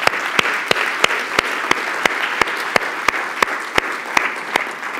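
Conference attendees give warm applause for the speakers, a continuous wash of clapping punctuated by a sharp, evenly spaced rhythmic clap roughly every third of a second, fairly close.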